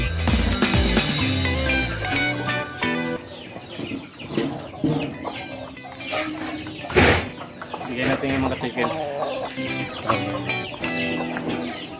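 Backyard chickens cluck and call while being fed moringa juice, several birds close by with busy, overlapping clucks and occasional louder squawks, a person talking among them.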